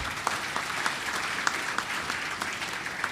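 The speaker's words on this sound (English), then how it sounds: "Yes, deserves a clap." Applause for the Saint Lucia Cadet Corps at an enrollment and promotion ceremony, fairly quiet and distant, an even patter of many hands with a few sharper claps standing out, lasting about three seconds.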